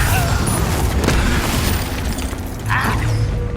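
A Confringo blasting spell explodes in Hogwarts Legacy, a loud booming burst over dense, continuous game combat noise with clattering impacts throughout and a brighter flare of sound near the end.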